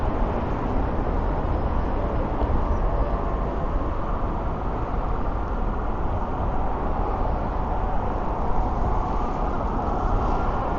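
Dense, continuous roar of heavy traffic with many cars crossing the Brooklyn Bridge in New York City, a steady loud wash of road and engine noise with no breaks or distinct events.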